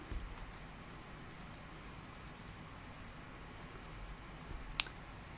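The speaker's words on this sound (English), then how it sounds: "Click to place it, click to change it." Computer mouse clicks placing dimensions in Solidworks come as quiet, close, irregular taps in small clusters, with one sharper click near the end and a faint room hum beneath.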